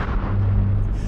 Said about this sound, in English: The largest non-nuclear explosion in human history.